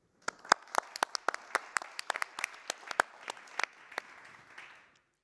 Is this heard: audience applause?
yes